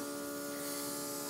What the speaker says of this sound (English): And I'm just softly spraying.